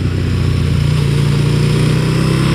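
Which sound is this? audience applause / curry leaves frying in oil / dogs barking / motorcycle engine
motorcycle engine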